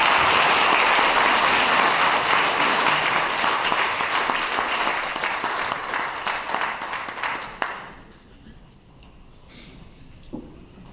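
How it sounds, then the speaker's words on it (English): Warm, sustained round of applause from guests at a retirement dinner, many hands clapping steadily before fading out near the end, leaving a quiet room with a few faint sounds. "Please join me in giving a warm round of applause for Mr. Dick Scheid."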